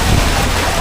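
Strong ocean waves crash and roar in a dense, loud wash of surf noise, heard close up with wind buffeting the microphone.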